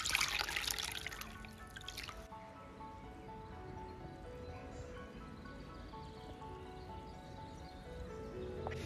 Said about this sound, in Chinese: 白色呢，我们直接加入清水来泡就可以了。